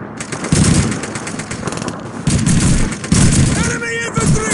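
Gunfire in the World War II shooter Call of Duty 2, with rapid machine-gun bursts and rifle shots cracking loudly and close, in heavy bursts broken by short pauses and mixed with shouted battle voices.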